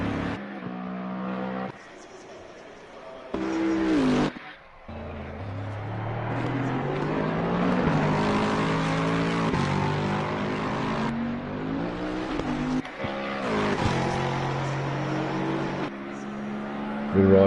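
Race car in a racing video game leaving the long pit exit at Spa, engine rising and falling through several gear changes with brief cuts, droning loudly with a voice talking over it.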